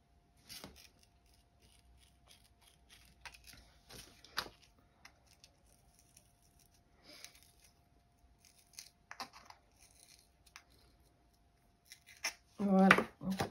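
A hole being made in Sweety scrapbooking paper for a recipe box with built-in LED: soft paper rustling and handling, then one loud, crunchy punching snap close up near the end.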